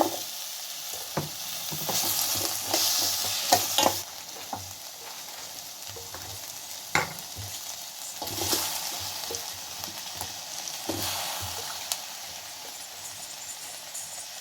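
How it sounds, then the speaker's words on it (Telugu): Tomato sizzles and fries in a pan while vegetables for a drumstick, brinjal and potato sambar are stirred in, with bursts of crackling and scraping over a quiet, hissing background. "టమాటో బాగా ఫ్రై అయిందండి ఇప్పుడు తరకారీ యాడ్ చేసుకుంటాము"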